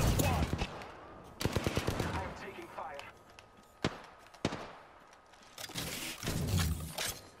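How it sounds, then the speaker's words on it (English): Gunfire in the video game Apex Legends, including a charge rifle: bursts of rapid shots early on, then a few sharp isolated cracks and a dense volley near the end, mixed with game effects and talk. "I'm taking fire"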